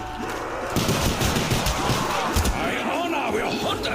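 Rapid gunfire in Call of Duty Black Ops 1 zombies on the Shi no Numa map, dense continuous shots and bursts filling the clip, loud and close, with game noise behind.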